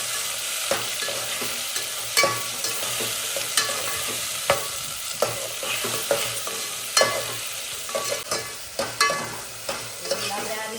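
Onion, chilies and tomatoes fry in hot oil for a chhaas bhaat recipe, a steady loud sizzle running throughout while a utensil stirs and scrapes the pan in frequent sharp clicks, with no talking.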